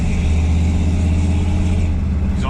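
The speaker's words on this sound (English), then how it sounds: "Exhaust doesn't sound bad at all." A car engine running at light throttle, its exhaust giving a steady, loud low drone close to the microphone, with no sharp revs.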